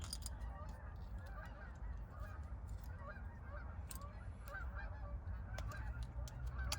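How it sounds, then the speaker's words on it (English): A flock of geese honks in the open air outdoors in early spring, with repeated overlapping calls at a moderate distance over a steady low background rumble. "Looks like all the geese are coming back."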